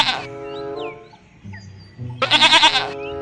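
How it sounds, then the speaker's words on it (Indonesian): A goat bleats twice in a children's animal-cleaning game, one short call at the start and a louder, wavering bleat near the end, with quiet sound effects between. "ternyata ini hewan kambing teman-teman"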